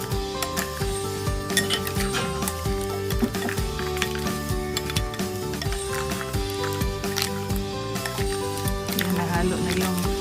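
A spoon clinks and scrapes against a bowl while condensed milk and dragon fruit are stirred together, a continuous busy clatter with a rhythmic tapping underneath.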